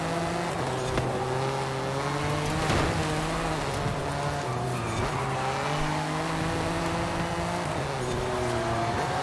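A car driving in the Forza racing game, its engine droning steadily with rising and falling pitch as it revs, over a constant hiss, with no talking.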